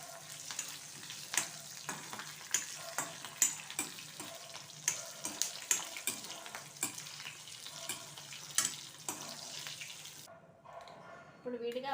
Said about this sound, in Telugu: ఎండుమిర్చి, పచ్చిమిర్చి ఇలా సగం దోరగా వేగితే చాలండి.